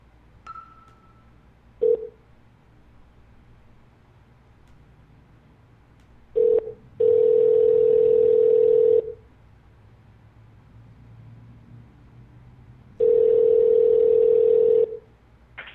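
Telephone line sounds while calling back: short beeps, then a steady dial tone held for a couple of seconds, later repeated, clean and close with no voices.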